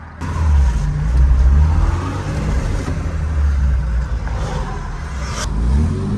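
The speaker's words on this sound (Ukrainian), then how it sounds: "Диви, дві машини проїжджають" Two cars drive past on a road, a steady low engine rumble and tyre roar swelling and easing as they pass fairly close, with no talk.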